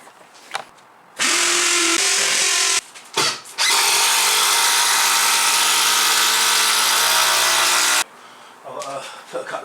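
Power drill whirring loudly in long sustained bursts while equipment is bolted down to the floor of a home workshop, with short pauses between runs and brief handling noise before and after.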